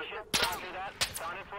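A few sharp gunshots in the tactical shooter Insurgency: Sandstorm, three distinct cracks spaced apart, fairly close, with a player's voice talking between them.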